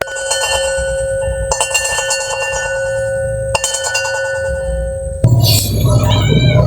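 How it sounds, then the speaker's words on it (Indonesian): A bell rings in three clear, resonant metallic strikes, each left to ring out and fade, before a burst of eerie ambient sound takes over. "Lonceng misteri telah berbunyi, bertanda gerbang menuju dunia gaib telah dibuka."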